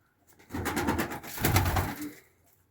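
Close cooing from pigeons of Pakistani, Iranian and Budapest breeds in two swelling, throaty bursts, the second slightly louder, with quiet before and after.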